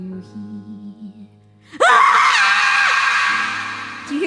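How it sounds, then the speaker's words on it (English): Scream of souls in the Final Fantasy XIV Moonfire Faire jump puzzle: a loud, sustained, wavering shriek bursts in after quiet low background music and holds for over two seconds before fading slightly. "Do you hear the screams?"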